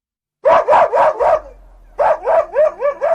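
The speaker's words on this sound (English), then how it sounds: "The family's dog began to bark wildly" A dog barks wildly in two rapid bursts of sharp, loud, close barks, four then five, separated by a short low pause, with no voices.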